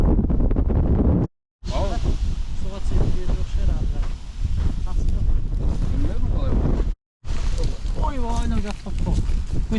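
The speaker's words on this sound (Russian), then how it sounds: "А вот и лодка." A small boat on open water near the village of Karakum in Kazakhstan, with strong wind buffeting the microphone and water washing around; people talk loudly over the rumble throughout.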